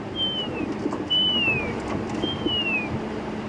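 A human voice imitates a drongo's wispy call with three thin, high, falling whistles, evenly spaced and fairly soft, over a quiet hissing outdoor background.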